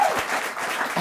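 A studio audience at a Kenyan TV talk show breaks into steady applause, a dense wash of clapping held at even loudness for about a second.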